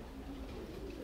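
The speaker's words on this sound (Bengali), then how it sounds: "এগুলো আমার বিডার কবুতর" Racing pigeons kept by a breeder coo softly in a loft, a low murmuring call over about a second, faint and close with no other sounds.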